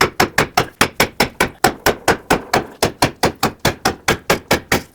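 Repeated heavy hammer blows drive a worn front wheel bearing out of the steering knuckle on a 2009-2015 Toyota Prius, a steady run of about twenty loud metallic strikes in quick rhythm, close and alone.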